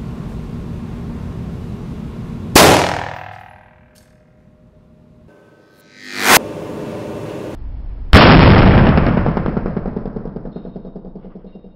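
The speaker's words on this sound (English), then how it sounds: "Now we're going to be testing this using my Delton AR-15, which has a 16-inch barrel with a 1-9 twist." An AR-15 rifle with a 16-inch barrel fires .223 Remington rounds into ballistic gelatin at an indoor range: sharp, very loud single shots with echoing decay, several seconds apart.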